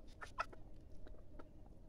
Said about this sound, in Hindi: देख लो कौन कौन सी मुर्गी है